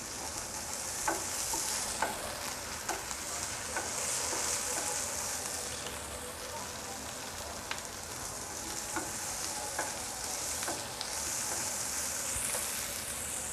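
Onions and spices frying in a pan for a Bengali fish head curry, a continuous bright sizzle and hiss with scattered stirring clicks, steady and close, no talking.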